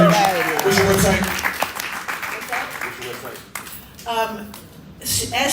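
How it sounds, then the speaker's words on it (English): Crowd applause breaks out for panelists at a town hall rally in Louisville, loud and sustained clapping mixed with cheers while voices speak over it. "Sister Carla Wallace, give her a round of applause"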